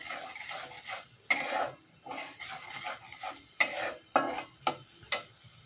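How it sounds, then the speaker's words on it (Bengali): Spice masala stir-fried in a pan for a fish curry with spinach, with brisk scraping spatula strokes and sharp metallic clinks against the pan over a soft sizzle, close and fairly quiet. "এবার মশলাটা একটু ভালো করে কষিয়ে নিতে হবে।"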